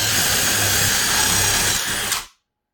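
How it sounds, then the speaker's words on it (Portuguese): A power drill bores a hole through clamped wood for a coffee filter stand, a loud steady whine up close that cuts off abruptly after about two seconds, leaving silence. "Então, cuidado, bastante atenção para você fazer o furo."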